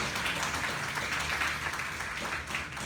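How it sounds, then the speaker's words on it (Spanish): A church congregation applauding steadily during a Sunday service, a dense wash of clapping that holds at a constant level throughout. "démosle ese aplauso al que reina por los siglos de los siglos"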